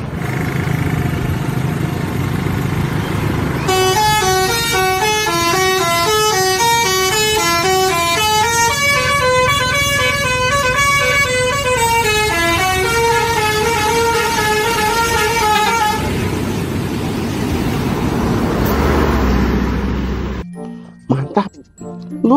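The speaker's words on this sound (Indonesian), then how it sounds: "Kali ini ada bus NPM teman-teman." A bus passes close by, sounding a loud musical horn that plays a long melodic tune over the rumble of its engine, followed by fading road noise.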